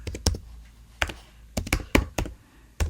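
Someone types an email on a computer keyboard, with close, irregular clusters of crisp key taps and short pauses between bursts. No one speaks.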